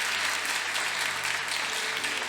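A church congregation applauds in dense, continuous clapping for over two seconds, a broad steady wash of many hands with no voices on top.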